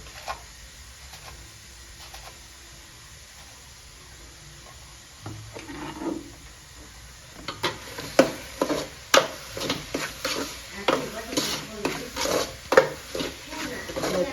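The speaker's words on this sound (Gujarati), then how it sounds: "અને મીઠું એડ કરીશું પછી તેને સારી રીતે હલાવીને મિક્સ કરીશું" Samosa filling masala with salt being stirred in a pan: quiet at first, then repeated scraping and clinking strokes of a spoon against the pan, growing louder and more frequent toward the end.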